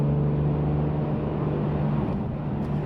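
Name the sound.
BMW E46 M3 being driven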